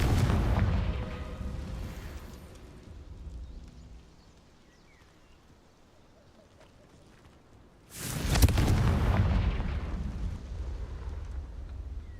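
Confringo blasting spell explosions in Hogwarts Legacy, a heavy booming blast that decays into quiet, then a second loud explosion with a rumbling tail, close and powerful, with no talking.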